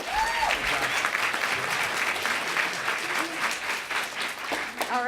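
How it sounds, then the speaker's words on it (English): Steady applause from an audience filling a Humane Lobby Day event, honoring a senator and representative, with dense clapping throughout and a few brief voices. "another big round of applause for the senator and representative"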